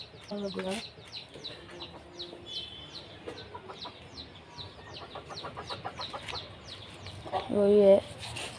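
Chickens, hen chicks among larger hens, clucking and cheeping repeatedly at feeding time, with a louder squawking burst near the end while a person talks in between.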